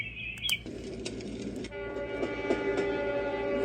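Train sound played from a white noise machine: a horn blast, then a steady rumbling run of rail noise with clicking and a sustained tonal hum, loud and continuous.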